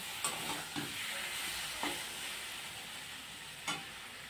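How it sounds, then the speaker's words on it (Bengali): Vegetables for chorchori sizzle steadily in a pan, with a few distinct scraping stirs of a spatula at intervals. No voices. "দেখুন আমি কষিয়ে নিচ্ছি ভালো করে"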